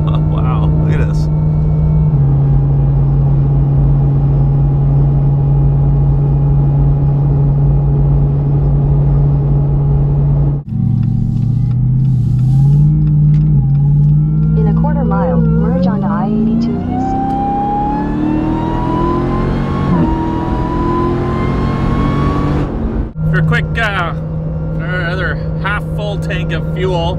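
A Jeep Gladiator with a Demon engine swap on 40-inch tyres cruises along a highway, its steady loud engine drone and road roar continuous throughout, with the engine pitch climbing gradually mid-way before settling back.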